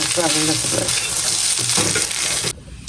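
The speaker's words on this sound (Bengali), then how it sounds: "ভাত ভাজি করতেছি তেল দিয়ে ভাজি করতেছি লবণ দিয়ে তেল দিয়ে" Rice frying in oil with salt gives a loud, steady sizzle with stirring scrapes, close up and continuous, dropping off abruptly just before the end.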